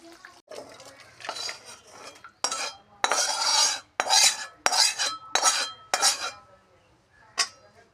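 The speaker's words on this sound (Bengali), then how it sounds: "এটা ঢেলে নেবো আমি বাটিতে।" Cooked Bangladeshi fish curry (macher rosa) being scraped and poured from a pan into a bowl, with a series of loud metallic clinks and scrapes of a spoon against cookware in uneven bursts, no talking.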